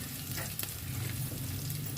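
Garlic sautés in a pan for bisteak chicken, a continuous close sizzle with a low hum underneath and a few brief scraping stirs, no voices.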